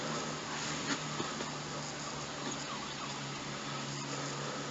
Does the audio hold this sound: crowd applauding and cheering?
no